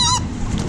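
At SeaWorld Orlando, a bird gives one short, loud, goose-like honk, then only faint outdoor background noise follows.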